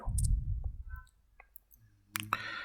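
Computer mouse clicks while entering figures and pressing a calculate button on a desktop, a few sharp, close ticks scattered through a quiet room with low background hum.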